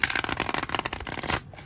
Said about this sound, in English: Oh, okay, well, I usually can shuffle pretty well.